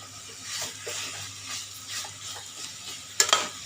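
Bottle gourd curry frying in a pan with its spice tempering: soft, nearby sizzling with repeated stirring scrapes, then a bright metallic clink near the end, with no voices.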